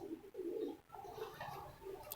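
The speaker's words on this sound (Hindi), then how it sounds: "ये वैद कबूतर है" A pigeon gives a few soft, low coos in short rounded bursts, faint and close, with a quiet background and nothing else clearly heard.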